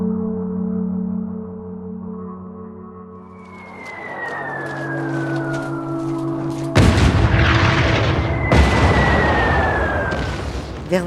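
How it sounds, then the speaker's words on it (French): A World War I artillery shell in September 1918 whistles overhead in a long descending shriek, then bursts in a loud, deep explosion, followed by another falling whistle and a second heavy blast. "le bruit strident d'un obus déchire le ciel"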